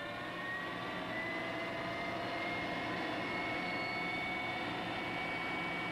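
A marine gas turbine engine on a false start, its starter motor turning it over without the burners lighting, gives a steady, continuous whining roar with sustained tonal whines layered over a broad rushing hum, unbroken and close throughout.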